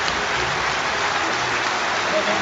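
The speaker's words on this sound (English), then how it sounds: "he deserves the ovation he's getting from his hometown crowd" A hometown crowd in Bolton gives boxer Amir Khan an ovation at a Premier League football ground, sustained applause and cheering that rolls on steadily as a dense, distant wash.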